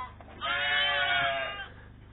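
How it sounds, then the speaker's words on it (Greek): Sheep at milking time on a farm in Rovies, Evia, bleating with one loud, wavering cry that rises and trails off, close by and alone. "όλα τα πρόβατα. Είναι διαλεγμένα. Είναι την ώρα του αρμέγματος."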